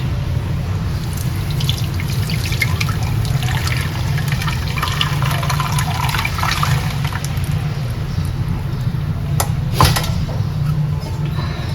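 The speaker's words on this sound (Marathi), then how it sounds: "जे आपण मिक्सरचं मिक्सरमधनं वाटून घेतलेलं आहे ना ते याच्यामध्ये टाकायचं" Blended khandvi batter of gram flour and yogurt poured through a sieve, a continuous close liquid pour and trickle with a low steady rumble underneath and a few clinks near the end.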